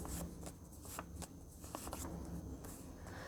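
A deck of tarot cards is shuffled close up in repeated quick riffling bursts, with crisp fluttering card snaps and soft handling noises between them.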